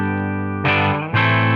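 A thick, distorted electric guitar tone through a Line 6 Helix amp modeler rings out with sustained chords, sounding heavily processed and saturated, two strummed hits in quick succession.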